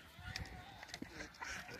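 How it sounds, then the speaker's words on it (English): Honking ducks call near and far on a farm with goats, with people talking in the background. "Here come the ducks too."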